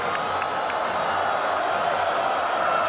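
Spectators at a women's World Cup basketball game, China against Brazil, give off a continuous roar of crowd noise at a free throw, a dense, even wash of cheering throughout.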